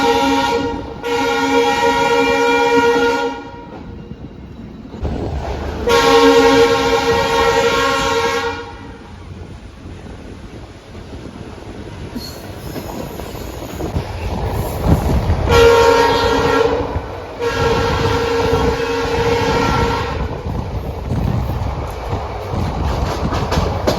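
A DEMU diesel multiple-unit train runs along the coastal line from Kulem to Vasco da Gama in Goa, its loud horn sounding in long blasts over steady rumbling wheels and rattling carriages.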